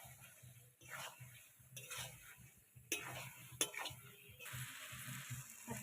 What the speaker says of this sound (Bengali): আলুগুলো দিয়ে ভালো করে আরেকটু নেড়ে নেব।